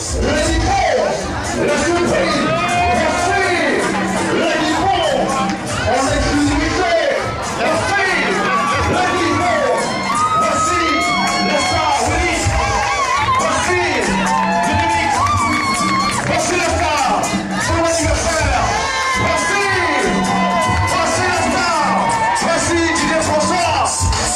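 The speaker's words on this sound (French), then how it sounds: "Est-ce qu'on peut l'applaudir, s'il vous plaît?" An awards-night audience applauds and cheers loudly, with whoops, shouting and crowd chatter mixed into a continuous roar that stays full and close throughout.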